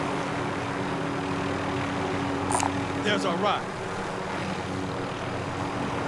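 Helicopter in Call of Duty Warzone on PS5, a steady rotor and engine drone running throughout, with a player speaking briefly over it.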